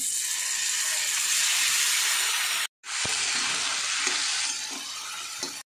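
Ground spice paste hits a hot pan for a Bengali soybean and potato curry, giving a loud, steady frying hiss that cuts out briefly, then resumes strongly with a few light utensil taps.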